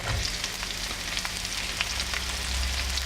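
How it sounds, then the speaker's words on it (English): Garlic and onions frying in a pan for an asparagus and mustard stir fry, a steady close crackling sizzle with faint stirring, moderately loud and without talking. "Fry the garlic a little bit and add the onions."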